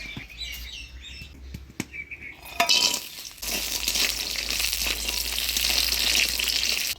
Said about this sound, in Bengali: তো প্রথমে ডালের বড়িটা ভাজে নিই।